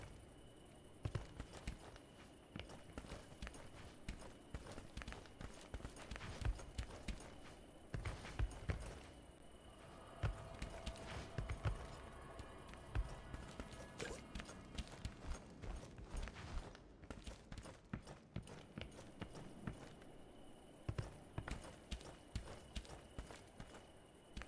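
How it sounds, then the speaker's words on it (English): Steady footsteps thud and clop along in the Dungeonborne video game, a long run of rhythmic hoof-like steps with occasional louder impacts and a low ambient hum beneath. "I hear the footsteps."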